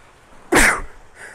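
A single sharp sneeze from a man on a morning beach walk at Delnor-Wiggins, loud and close, with faint outdoor ambience before and after.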